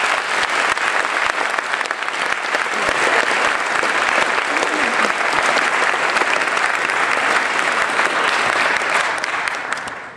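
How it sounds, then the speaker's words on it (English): Sustained applause from a school audience honoring Holocaust survivor Alter Wiener, loud and dense clapping that holds steady for about ten seconds before starting to taper at the end. "a big round of applause, please, for Mr. Alter"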